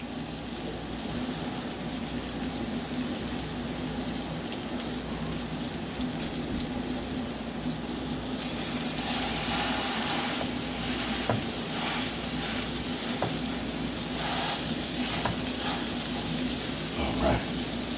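Two mushroom burger patties fry in hot oil in a skillet, giving a steady close sizzle that turns louder and brighter partway through, with faint clinks and scrapes now and then.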